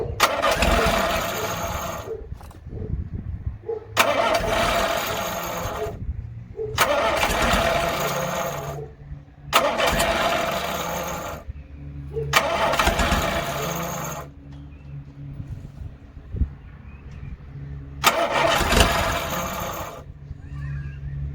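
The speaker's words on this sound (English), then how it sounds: "Try not to over rev it, just open the carb a little bit." A car engine with a carburettor cranks and fires repeatedly, each start rising into a brief rev as the throttle is opened, then dropping back to a rough idle between attempts, close and loud.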